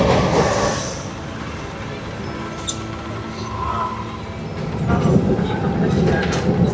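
Inside a moving train between Mumbai and Panvel, a steady low rumble and rattle of the carriage fills the space, with faint clicks and some background voices.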